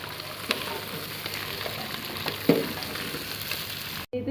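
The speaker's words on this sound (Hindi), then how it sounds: "ये तो शिमला को तकरीबन 5-10 मिनट मैंने फ्राई किया है, बिल्कुल हल्की आंच पे" Capsicum frying in ghee over low heat gives a steady, even sizzle, with a couple of soft stirring knocks and a brief cutoff at the very end.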